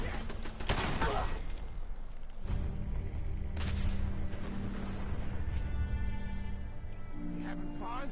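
Gunfire in Fallout 4: dense volleys of shots crackle and rumble continuously, loud and close, with a voice talking over the shooting.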